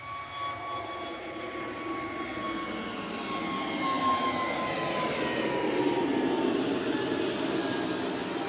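An SAS Airbus A320neo in new livery is departing Manchester Airport. The jet roar builds steadily, with high engine whines sliding gradually downward as the plane passes, growing louder toward the end, and no speech.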